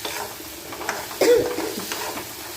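Chopped spinach frying in oil with dried red chillies, cumin and a pinch of asafoetida: a soft steady sizzle with a spatula stirring and scraping the pan, a louder stir near the middle.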